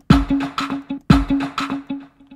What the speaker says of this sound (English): It's actually a clap, a trap clap with a delay on it